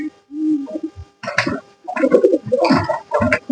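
Pigeons in a coop with newly hatched chicks give soft, low cooing calls in several short bursts with brief pauses, close by and with no talking.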